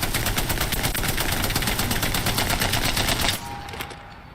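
Spitfire light machine gun firing in the video game Apex Legends: one long loud automatic burst of rapid, evenly spaced shots that stops abruptly, leaving a brief quiet tail.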